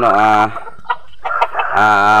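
A four-month-old Japanese Shamo rooster crows loudly and close, pauses amid a few soft clucks and rustles, then crows again.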